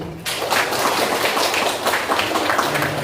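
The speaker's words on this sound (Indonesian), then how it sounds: "Tepuk tangan untuk kita dulu." Seminar audience at a parenting talk breaking into dense, even applause that starts abruptly and carries on steadily, fairly close and loud.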